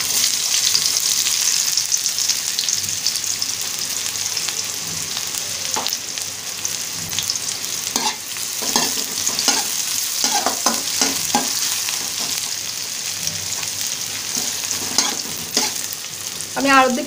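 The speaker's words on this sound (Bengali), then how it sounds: "পেঁয়াজ অর্ধেকটা দিয়ে দিব।" Onions frying in hot oil for cauliflower singara filling, a steady crackling sizzle with clusters of spatula scrapes and stirring strokes in the middle stretch, close and fairly loud, with no one speaking.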